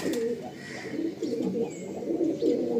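Pigeons in a tournament racing loft in Garia coo steadily and close by, low throaty repeated calls rolling one after another across the whole stretch, with no talk over them.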